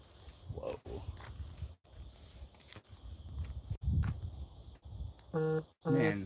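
Frogs give their mating calls at night beside mineral quarries near Lorca, a rhythmic chorus of croaks over a steady insect-like buzz, with one louder, nearer call standing out near the end.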